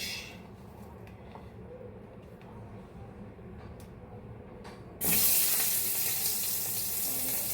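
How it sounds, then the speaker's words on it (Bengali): Onions hit a hot pan and start frying: a quiet stretch of low kitchen noise gives way to a sudden loud, steady hiss and sizzle that keeps going. "এবার পেঁয়াজগুলোকে ভাজবো।"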